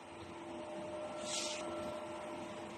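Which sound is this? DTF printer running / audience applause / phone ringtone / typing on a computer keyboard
DTF printer running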